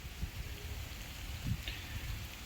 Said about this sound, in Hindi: अब बारिश पड़ रही है इस साइड से।